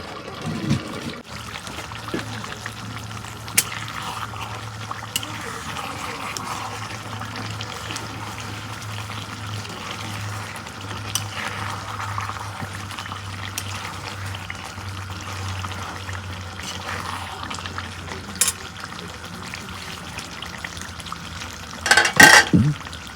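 Water trickles and pours into beef curry cooking on a clay stove, a soft, steady stream with occasional stirring clinks, close but fairly quiet.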